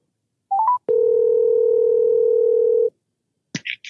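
A telephone line in use while a call is placed: a few short tones, then a steady, close dial tone holding for about two seconds before it cuts off, followed by brief dialing beeps.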